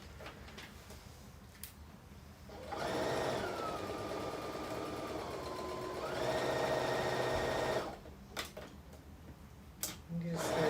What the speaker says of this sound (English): I'm just gonna sew at 1 centimeter right around.